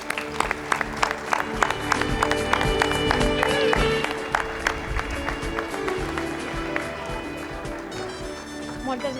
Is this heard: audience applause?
yes